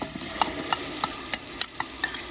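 Tomato paste is stirred in a frying pan for Arabian chicken kabsa, with a soft sizzle under a regular series of sharp spoon taps and scrapes, about eight in quick rhythm.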